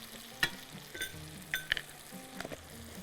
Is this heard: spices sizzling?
yes